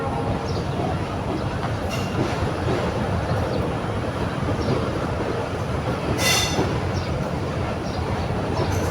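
A train rolls past close by in a village, a continuous rumble with wheel clatter and brief high metallic squeals.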